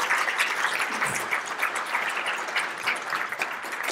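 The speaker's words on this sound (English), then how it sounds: "Let's give her a round of applause." Steady applause from a crowd, continuous clapping at moderate volume throughout, no one speaking.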